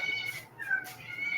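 A cat meows faintly, one drawn-out call with a second fainter cry, set against a quiet background with no talking.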